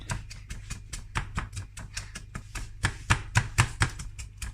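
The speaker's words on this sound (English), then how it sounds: "So I'm just gonna use my rolling pin and this plastic bowl as mortar and pestle." A rolling pin pounds spring onions in a plastic bowl used as a makeshift mortar, a quick steady series of dull close thuds with light clacks, alone and without talk.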